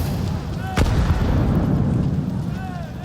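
A Counter-Strike grenade detonates in a pro match, a sharp, loud boom landing early then rumbling into a dense tail, with game noise and a commentator's voice running underneath.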